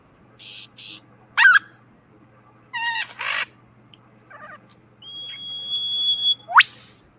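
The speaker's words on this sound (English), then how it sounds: "That was a whip bird." A whipbird calls with a long thin whistle that ends in a sharp rising whipcrack. Several other short chirps and squawks from birds are scattered around it, clear and fairly close.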